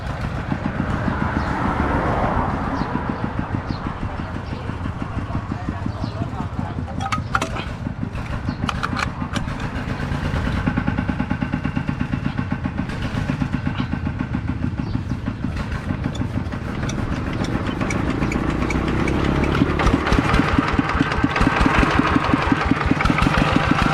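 A heavy tractor engine runs steadily at idle, a continuous low rumbling chug with a rapid mechanical beat, close up and without speech.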